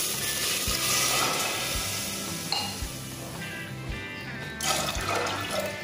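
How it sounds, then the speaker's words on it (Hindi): Water pours into a pressure cooker holding soaked rajma (kidney beans), a splashing, gurgling stream with a few knocks and clinks of the vessel, close and moderately loud. "और इसमें मैं 2 गिलास पानी डाल रही हूँ।"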